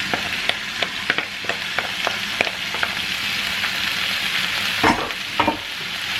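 Steamed canned callaloo being mixed in a pot with seasoning: a rhythmic series of spoon scrapes and clacks over a soft sizzle, close and fairly loud, with no talking.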